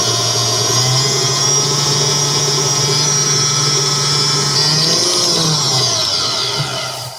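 A GE stand mixer runs steadily at close range, a loud continuous motor whine with a strong low hum, its pitch dipping briefly near the end before it winds down.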